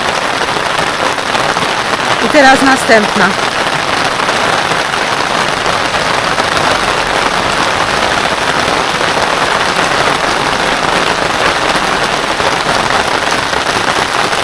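Steady, dense rainfall pours down throughout in a forest, a continuous broadband wash with a brief patter and short spoken remark near the start.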